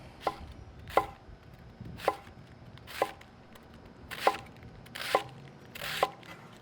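Seven sharp knife chops on a cutting board through smoked pulled pork, cut against the grain, spaced about a second apart, close and distinct over a quiet room.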